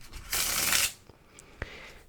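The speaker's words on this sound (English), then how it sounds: "My favorite has always been the riffle shuffle, which looks" A deck of playing cards gets a riffle shuffle: a dense half-second burst of fluttering cards, followed by a few soft taps and a sharp snap of the cards squared up, close and quiet.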